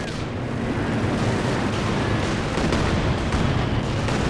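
Rockets and tank fire in a Company of Heroes 2 battle as a Firefly trades blows with a Panther: a loud, unbroken rumble of explosions and artillery-like booms with overlapping shots throughout.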